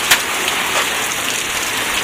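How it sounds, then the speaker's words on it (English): Rain falling outdoors near a workshop, a steady close hiss of drops hitting surfaces that runs the whole time, with one brief tap near the start. "I got rain coming in."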